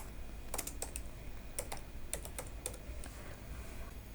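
Typing on a computer keyboard while writing JavaScript code, quiet scattered clusters of key clicks in short bursts over a low background hiss.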